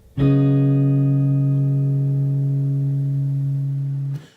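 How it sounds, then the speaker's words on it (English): One guitar chord is strummed and rings out clearly on its own, sustaining for about four seconds before it is cut off. "you should get this chord that sounds like this"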